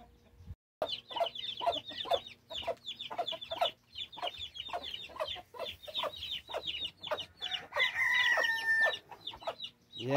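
Chickens and young chicks clucking and peeping in repeated short bursts close by on a duck-raising farm, with a sustained shrill call rising near the end; no talk.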